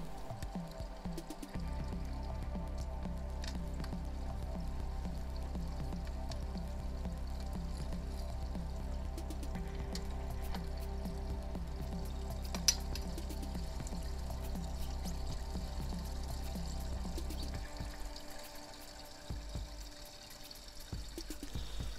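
A pump drains water from a pond skimmer. Steady flowing and pouring water runs under a low mechanical hum with a faint rhythmic pulse. The pulse stops near the end while the flow continues.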